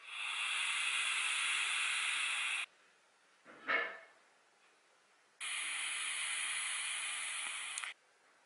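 A Geekvape Blitzen RTA atomiser with the airflow half closed gives two long, steady airy hisses from the draw, separated by a pause with a short exhale-like puff, close and fairly loud.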